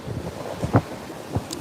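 Waves wash up a shore in a few soft surges, with wind buffeting the microphone throughout and no voices.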